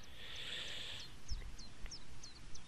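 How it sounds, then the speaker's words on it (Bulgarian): Short, high bird chirps in GTA San Andreas repeat every half second or so over a steady hiss and low rumble, with a faint buzzing tone early on. "Да, и чувам някакви птички."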